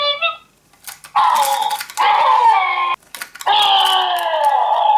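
A Halloween Monster Screamers toy lets out loud, wavering electronic screams in three bursts, separated by short gaps and clicking handling noises.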